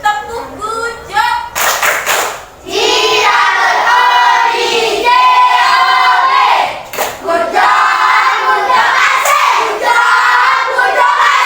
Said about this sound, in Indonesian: Kita berikan tepuk good job.